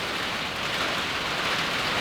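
Steady rain falls outside, a dense, even hiss of drops on surfaces that stays constant and fairly loud throughout, with no voices.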